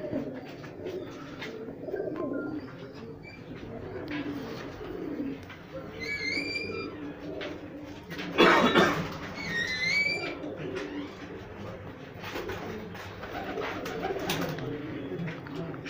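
Soft, low cooing of high-flyer pigeons repeating throughout, with a few higher chirps and a brief rustling burst midway, close by.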